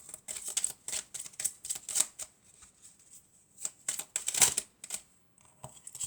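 Oracle cards being shuffled by hand, a quick series of crisp riffling flutters and soft taps in uneven bursts with short pauses, close and fairly quiet.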